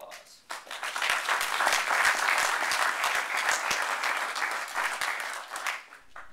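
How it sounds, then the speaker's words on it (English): Audience applause fills an event room before a film premiere, a dense steady clapping that swells quickly, holds for several seconds, then tapers near the end. "So give yourself a round of applause."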